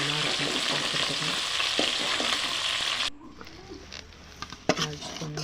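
Tempering for a moong dal sambar sizzles loudly in a pan for about three seconds as it is poured in, then drops to quiet bubbling with a few light clinks.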